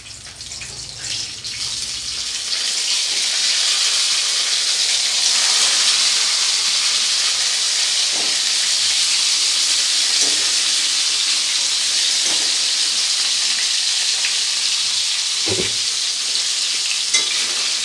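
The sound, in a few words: rohu/catla fish pieces added to hot tempering, sizzling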